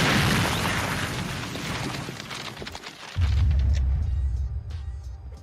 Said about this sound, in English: I can even hear the things dropping after the explosion.